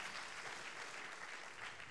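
Audience applause fills a conference plenary hall at the UE35 2016 session, a dense, even patter of many hands clapping at moderate volume, with no talk over it.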